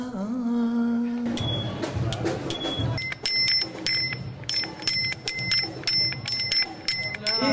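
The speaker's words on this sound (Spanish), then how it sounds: "porque tenemos una bici ahí. Bien. Con un timbre que está buenísimo." A bicycle bell rings in a rapid series of bright, repeated dings, close and loud, over a busy, steady background of other sound.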